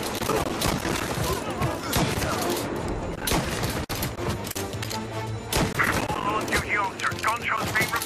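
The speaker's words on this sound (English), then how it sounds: "Gunshots being reported." Bursts of rapid gunfire and loud shots crackle repeatedly alongside game effects in Mafia: Definitive Edition, with voices talking over the action.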